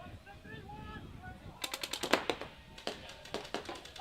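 Gunfire in a competitive video game match rattles in quick automatic bursts midway, sharp repeated shots following a stretch of commentary-like talk and background noise.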